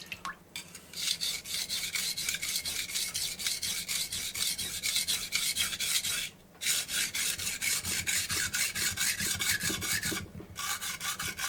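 Knife blade being sharpened on Japanese whetstones (Tanaka Toishi, Tsuki, Aki, Shiro), close rhythmic wet rasping strokes in a steady back-and-forth pattern with two short pauses, no talk.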